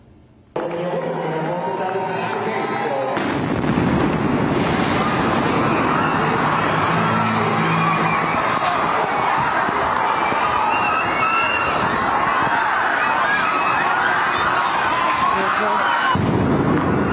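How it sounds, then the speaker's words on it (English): A large explosion at the Boston Marathon finish line bursts out loud and close after a brief quiet start, followed by a long, dense roar of crowd commotion, shouting and street noise that continues until it cuts off abruptly. "You can hear the second bomb go off about 13 seconds later."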